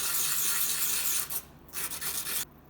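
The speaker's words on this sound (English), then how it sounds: "Now, I've used like a lot of sandpaper, but I have a lot." Sandpaper rubs hard and continuously across a small silver charm with a close, loud rasp. The strokes break briefly twice, and no one speaks.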